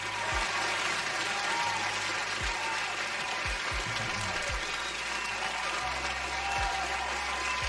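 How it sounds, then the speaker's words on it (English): Steady applause from a group of people at a live trading-session stream, dense and continuous for several seconds, with low thumping knocks and a faint hum underneath. "you guys deserve an applause"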